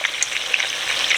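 Meatballs brown in a pan with a dense, crackling hiss of frying fat, close and steady, with faint intermittent pops across the short stretch.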